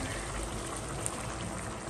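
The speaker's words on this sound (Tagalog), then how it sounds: "lalagyan ko rin siya ng tubig" Hot water pours steadily into a cooking pot of chicken stewed with tomatoes. It makes a soft, continuous rushing splash at low volume with no talk.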